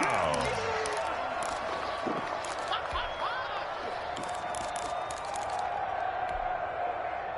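Stadium crowd noise from a football video game, a loud continuous roar with scattered shouts and thumps, mixed under speech throughout.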